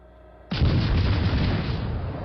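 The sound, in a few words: 6-inch naval guns firing in video game World of Warships Legends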